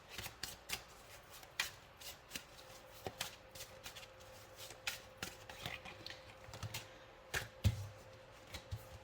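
A deck of oracle cards is shuffled by hand during a tarot-style reading, a series of crisp riffling slaps and flicks in irregular bursts, close and fairly quiet, with no talking.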